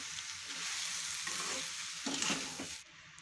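Potato, cauliflower and peas cooking with spices in a pan, a faint, even frying hiss with occasional soft stirring scrapes, slightly louder near the end.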